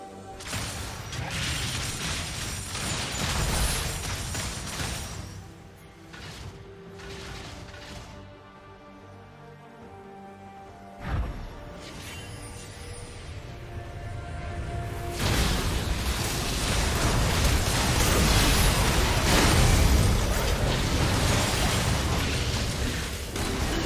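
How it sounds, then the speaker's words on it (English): Turret destruction in League of Legends with a crumbling, mechanical crash and booming bursts. The din drops to a quieter stretch, then swells again into loud, sustained rumbling and clatter. "Team's turret has been destroyed."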